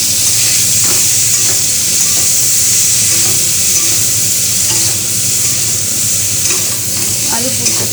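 Potato and cauliflower curry with Kashmiri chili powder frying loudly in a pan, a dense continuous sizzle and hiss close up, with occasional stirring scrapes throughout.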